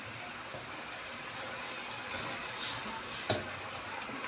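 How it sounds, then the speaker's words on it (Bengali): Spice masala for chicken biryani sautéing in a pan, a steady broadband sizzle with faint scraping and one short sharp clank near the end, no voices. "একটু কষে নিই এখন ভালো করে মশলাটা"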